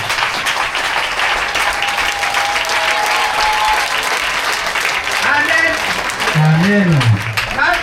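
A church congregation standing to acclaim God breaks into sustained loud applause, a dense wash of clapping from a crowd, with a voice speaking and singing over it toward the end.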